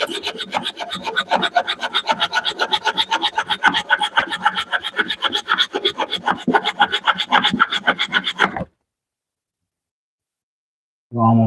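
A handsaw cuts through a piece of wood held against a desk by a clamp and a hand, rasping in a quick, steady rhythm of close strokes for about eight seconds before stopping, followed by a short burst of talk at the end.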